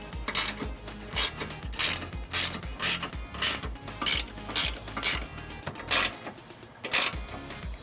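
A 1/2-inch ratchet with a 19mm socket snugs up trailer hitch bolts on a 2005 Jeep Grand Cherokee, giving a close, steady run of rhythmic clicking bursts that repeat roughly every half second throughout.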